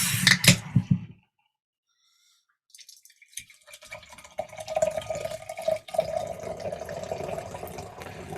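Belhaven Scottish Ale being poured from a pub can: a brief metallic clatter, a pause, then a continuous gurgling, fizzing pour that runs on steadily, close and fairly quiet.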